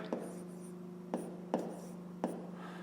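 Chalk or marker taps and strokes on a board while numbers are written for a fifth-grade maths exercise, four short soft knocks spaced irregularly against a faint hum.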